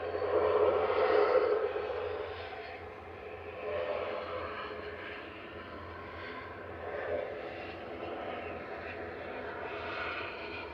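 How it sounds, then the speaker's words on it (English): A noisy propeller airplane at Manchester Airport drones steadily in the distance for several seconds, a broad rumbling engine roar that swells and eases slightly, heard outdoors with no talk. "Possibly our last noisy prop of the evening."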